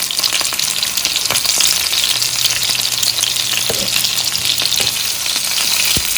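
Reshmi kebab fries in a pan with a loud, steady sizzle and crackle throughout, with a few scraping stirs and no talking.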